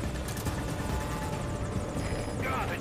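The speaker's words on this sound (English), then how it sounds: "Oh, the other helicopter's coming?" Helicopter approaching in Metal Gear Solid 5 video game, a steady rotor thump and engine whine filling the whole stretch, loud and continuous, with someone talking over it.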